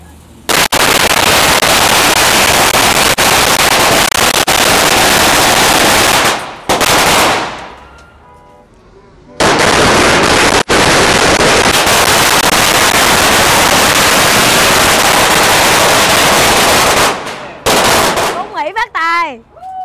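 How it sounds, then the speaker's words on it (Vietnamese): Strings of firecrackers set off for a Vietnamese-American restaurant opening in the US crackle in two long, deafening, continuous bursts, with a brief lull between them and a voice heard at the end. "Rồi bây giờ đốt pháo nha."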